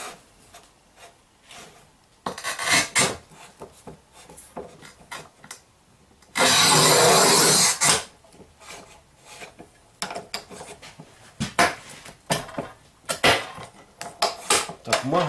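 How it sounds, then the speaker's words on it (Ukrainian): A manual tile cutter works 12 mm porcelain stoneware tile, giving gritty rasping strokes, a long continuous scoring scrape in the middle, and then scattered knocks and scrapes close by. "Відразу взяли керамограніт 12 мм товщиною. Це, як на мене, критичне значення для цього плиткорізу. І спробуємо його різати."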